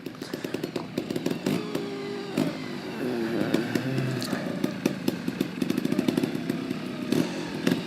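A race car engine revs hard after a shift into third gear, a buzzing, rasping roar with rapid rises and dips and sharp crackles, steady and moderately distant without talk.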